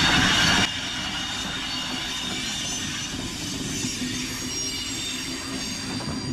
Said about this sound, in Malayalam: ഒരു ട്രെയിൻ പോണ്ട്, ആ ട്രെയിൻ സംഭവം നോക്കിയേ